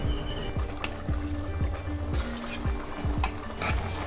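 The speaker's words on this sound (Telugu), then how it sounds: "ఇది కలిసేలాగా బాగా కలుపుకుందామండి" Rice, lentils and chopped vegetables being mixed together in a pressure cooker pot, with a steady series of scraping, sloshing stirs repeating roughly every half second over a low background hum.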